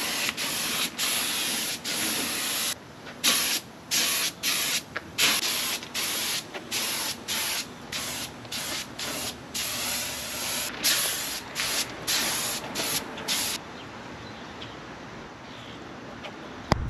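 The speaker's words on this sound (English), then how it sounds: "we're gonna spray the front" Paint spray gun hissing in bursts while coating the front of an RV, loud, close, steady sprays broken by short pauses, no talking.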